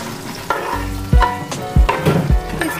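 Carrots, leeks and garlic sautéing in a pan, a close sizzle punctuated by several heavy, irregular knocks and scrapes of a utensil stirring, no voices over it.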